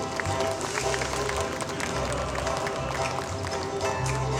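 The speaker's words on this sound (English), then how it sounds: "Give her a round of applause" An audience at a Pacific arts and culture festival in Tonga gives a sustained round of applause, steady broad clapping mixed with crowd noise.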